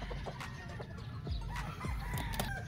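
Game-farm roosters, Spartan black gamecocks among them, cluck in short bursts and crow in a few scattered calls, faint and a little distant against quiet farm background.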